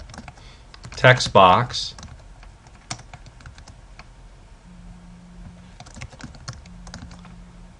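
Keys clatter on a computer keyboard as HTML code is typed, a quick burst of close, loud keystrokes followed by sparser clicks, with a voice talking over parts of it.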